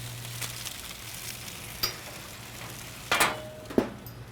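Salmon cooks in a pan on lowered heat, a quiet steady sizzle with a few sharp utensil clicks and scrapes near the end.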